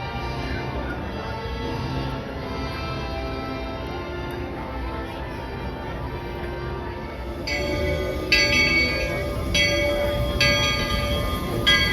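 A Walt Disney World Railroad train at the Magic Kingdom rumbles along steadily. Partway through, its bell begins clanging in repeated strokes over the running noise.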